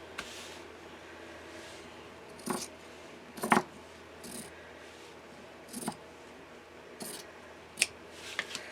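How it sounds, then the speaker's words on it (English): Scissors snip through a strip of fabric while a mini album is being covered, giving a handful of short, crisp cuts spaced irregularly over a quiet room background. "Now I'm going to cut a strip, just leaving about 1 inch off of both sides."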